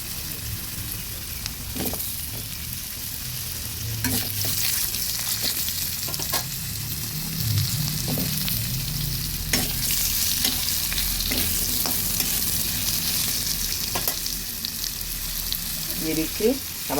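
Long-cut potato strips fry in oil in a pan for a rui fish curry with stalks, a constant sizzle under repeated spatula scrapes, knocks and low rumbling stirs.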